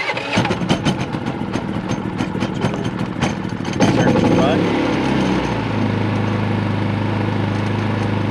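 A Predator 3500 inverter generator engine cranks and catches, then settles into a steady, even idle hum, with a brief voice over the starting noise.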